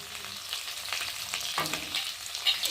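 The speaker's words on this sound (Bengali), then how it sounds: "দিয়ে ভালো করে একটু কষিয়ে নেব" Cumin and ginger paste with salt, turmeric and Kashmiri chilli powder sautéing in oil for pomfret fish curry, a close crackling sizzle with scattered spatula scrapes and taps throughout, no talking.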